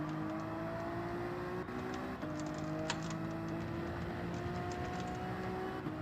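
A Honda NSX engine in the racing game Gran Turismo 7 hums and rises in pitch through several gear changes, a steady tonal whine with brief dips between shifts and faint ticks.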